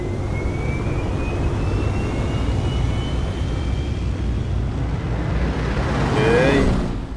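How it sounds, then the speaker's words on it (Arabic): Aircraft flying overhead in the racing game Forza Horizon 5, heard as a steady, broad roar with a faint thin whine sliding across it. A voice speaks briefly near the end. "شوفي طيارات هي كمان."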